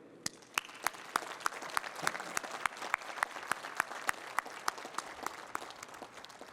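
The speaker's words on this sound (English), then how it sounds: "let's take a moment to thank and applaud all of those who have supported you" Audience applause at a university advanced degree graduation ceremony for engineering and computing, a sustained wash of many hands clapping with crisp individual claps standing out, fairly distant and steady throughout.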